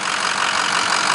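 The engine of a 2006 Ford F250 King Ranch FX4 pickup idles steadily after starting, a loud, even broadband rumble with no voices over it.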